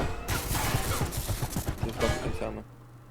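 Rapid turret gunfire in the video game Level Zero: Extraction, a dense burst of shots lasting over two seconds before cutting off, loud and close, with a voice shouting over it.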